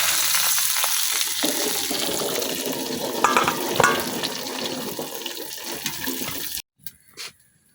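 A silver carp fish head fries in hot oil in a village kitchen with a continuous broadband sizzle and splutter. It runs for several seconds, then cuts off abruptly, leaving a couple of brief quiet knocks.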